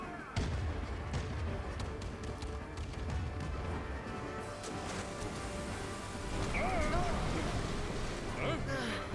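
Cannon fire between sailing ships in the game Kingdom Hearts 3, deep booming shots and crashing impacts rolling under continuous battle noise, with a voice talking over it.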